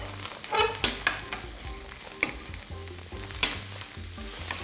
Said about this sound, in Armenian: Տապակում ենք այնքան, մինչև կեղև կապի։